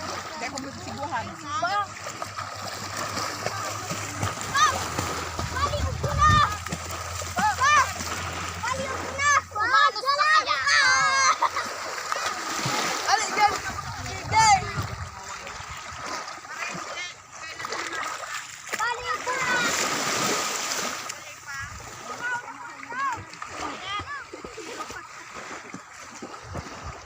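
Children swim and splash in water, with repeated close splashes mixed with excited kids' voices shouting and talking throughout.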